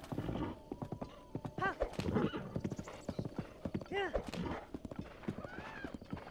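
A horse in The Legend of Zelda: Breath of the Wild trots with rhythmic clip-clopping hooves and gives several high whinnying neighs, while someone talks over the sounds.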